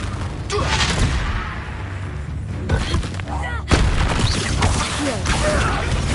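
A Confringo blast spell in the Hogwarts Legacy video game erupts in heavy booming explosions, several loud, dense bursts with rumbling tails, under a speaking voice.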